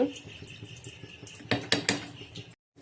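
A spoon stirs khichuri made with Gobindobhog rice, moong dal, cauliflower and peas in a pot, scraping and clinking softly before a few louder metallic knocks against the rim near the end.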